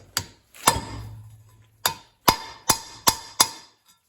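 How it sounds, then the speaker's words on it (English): A 9/32 socket wrench works on the exhaust heat riser of a 1946 Jeep, giving a series of sharp metallic clicks and taps, a few spaced and then several in quicker succession, close and clear. "I'm going to use this 9/32 socket."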